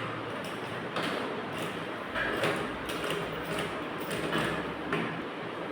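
Sewing machine running a cover seam on a blouse, a continuous mechanical rattle with regular clattering pulses, close and steady with no talk.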